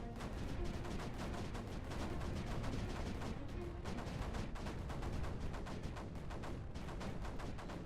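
Rapid weapon fire from units in the strategy game Creeper World 4, a dense continuous barrage of repeated shots with a steady loudness throughout and no talking.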